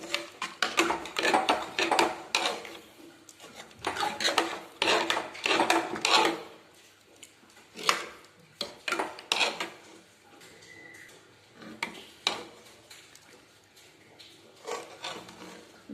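Metal utensil scraping and clinking against a cooking pot while stirring tempering into bajra khichdi, in bursts, a brief pause, then more stirring clatter, close by.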